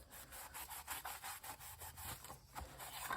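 Hand sanding of a fiberglass cover for a fuel sensor: quiet, rhythmic back-and-forth scraping strokes, about three per second, close but faint, with no voices.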